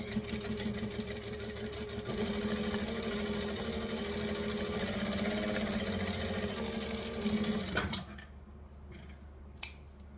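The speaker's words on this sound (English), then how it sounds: "And then I'm going to top stitch." A sewing machine top stitches fabric for a garment, running steadily and fairly loud for about eight seconds before it stops, leaving near quiet broken by one sharp click.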